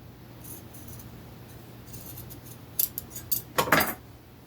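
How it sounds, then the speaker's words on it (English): Scissors trimming fabric along a serged edge give a few short, close snipping cuts near the end, faint against a quiet room before that. "I'm just going to trim along the serge line."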